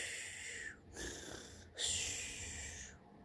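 A voice imitates a woman's snoring in a children's story, three long raspy wheezing breaths with short pauses between, close and fairly quiet.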